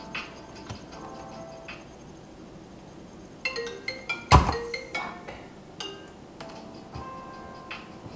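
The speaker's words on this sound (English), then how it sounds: "My phone was ringing." A mobile phone rings indoors as a faint repeating electronic tone, with a brief louder clack partway through and a few light clicks.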